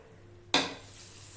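Tapioca bhaji (kappa) fries in hot oil. After a quiet moment a loud sizzle bursts in, then eases to a steady, close crackle.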